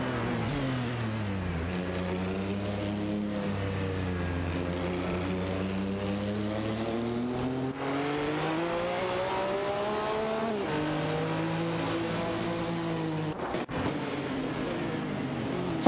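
Race car engines whine continuously in an AI racing video game, with engine pitch rising and falling through gear changes as cars pass, loud and steady throughout.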